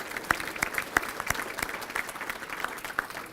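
An audience at a Detroit bowling hall of fame event gives a steady round of applause, dense clapping that carries evenly through the moment.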